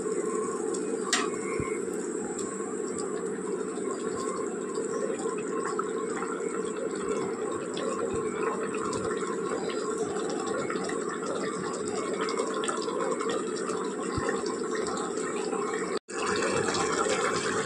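Water bubbles steadily in a cooking pot for egg biryani, a continuous close bubbling and hissing that stays at an even level, with a brief cut near the end.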